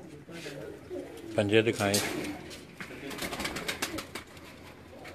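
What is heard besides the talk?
pigeons cooing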